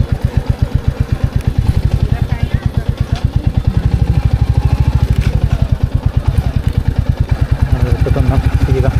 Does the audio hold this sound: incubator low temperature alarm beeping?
no